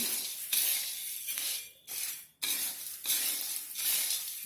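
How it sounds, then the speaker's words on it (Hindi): Homemade mixed namkeen snack with green boondi being tossed and stirred, giving repeated dry rustling, scraping sweeps at close range with brief pauses between strokes. "इसको अच्छी तरह से मिक्स कर लेंगे।"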